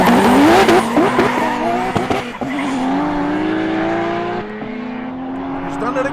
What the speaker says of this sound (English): Very fast car.